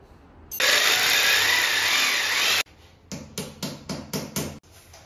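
A power drill run at half speed while installing a bathroom partition gives one loud, sustained two-second burst, then a quick series of short, sharp bursts close by.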